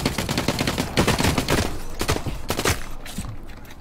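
Rapid bursts of gunfire in the shooter game The Cycle: Frontier, dense overlapping shots and automatic fire crackling loudly and close for several seconds, with no talking.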